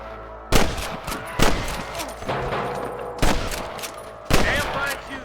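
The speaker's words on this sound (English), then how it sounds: "Damn fine shooting, boys." Repeated gunfire bursts in a Red Dead Redemption shootout alongside deputies, sharp loud shots cracking out at irregular intervals over a continuous backdrop of battle noise, with voices in the background.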